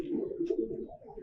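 Pigeons in a loft in Munshiganj giving a soft, close, rolling coo that rises and falls over about a second, with a faint chirp partway through.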